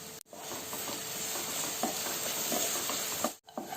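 Banana pieces sautéing in a pan with sugar and cardamom powder, a steady close sizzle with soft stirring scrapes running throughout and a brief break near the start and end.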